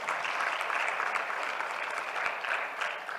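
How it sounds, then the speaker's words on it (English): Audience at a Global Expo Botswana 2023 forum applauding steadily, a dense, even wash of clapping from many hands that holds at full strength for the whole stretch with no voices over it. "A round of applause for Edna."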